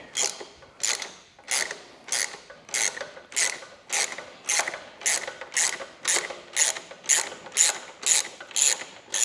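A hand ratchet loosens a nut on the rear spring of a Ducati Desert X motorcycle, with about fifteen evenly spaced, sharp clicking strokes, close and clear with no talking.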